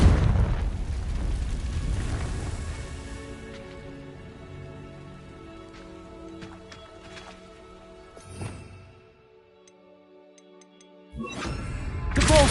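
A Confringo explosive spell in a Harry Potter video game sets off a heavy booming blast that rumbles and slowly decays, followed by quieter debris crackles and a fresh burst at the end.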